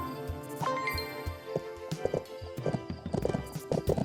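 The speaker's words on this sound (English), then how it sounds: "A horse race against the clock." Galloping hooves pound in a video game horse race against the clock, a fast, rhythmic run of clip-clop beats that grows denser and heavier, heard close with no talking.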